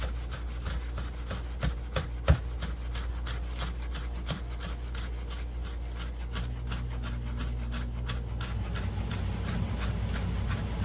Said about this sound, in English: Just choppity chop chop chop.